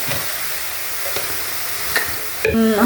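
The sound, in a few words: soybean tibs stirred while frying in a pan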